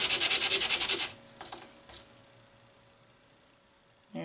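Sandpaper rubbed back and forth on an 18 gauge metal cuff, a rapid run of about ten even, loud scraping strokes for a second, then a few fainter scuffs, a long near-silent pause and a brief rub at the end.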